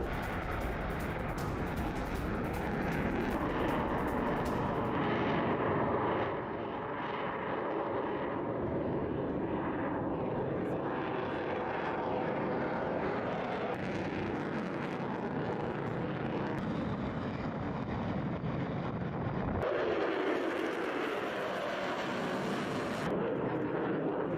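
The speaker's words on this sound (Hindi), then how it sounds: "साउथ साइप्रस के एयरबेस में 6 F-35 फाइटर जेट पहुंचे।" Six F-35 fighter jets at an airbase in southern Cyprus, a loud, continuous jet-engine roar that holds steady for over twenty seconds, shifting in tone partway through, with no voices.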